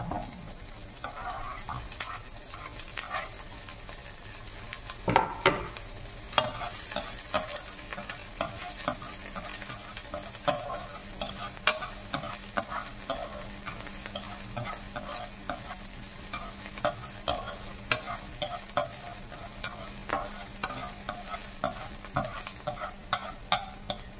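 Onions sizzling and frying in a pan for Filipino ginisang pampano with ampalaya, a steady crackling sizzle with frequent stirring scrapes, close and continuous, no talking.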